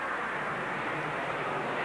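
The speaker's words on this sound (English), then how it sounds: "This specially designed airplane was flown hundreds of times on parabolic sweeps into the sky" A specially designed airplane flying parabolic sweeps for Gemini astronaut training gives a steady, loud, broadband engine roar that holds constant throughout, with no voices.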